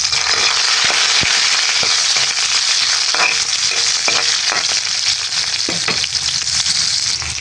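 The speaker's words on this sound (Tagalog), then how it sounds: "At dito po ay magigisa na po ako ng bawang." Garlic, onion and ginger sizzle loudly in hot oil in a pan, a steady bright crackle with scattered sharp pops and stirring clicks, close and continuous without talk.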